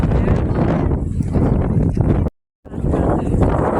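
Heavy, roaring wind buffets the microphone in continuous gusts on the Dragon's Back hiking trail in Shek O, Hong Kong, broken by a brief silent gap before the rumble resumes.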